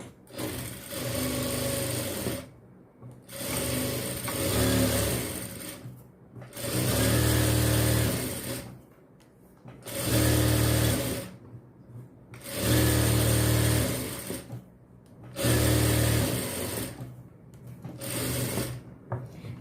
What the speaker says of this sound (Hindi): अपोजिट रखकर अब इसे चारों तरफ से हम सिलाई लगाकर सिल लेंगे।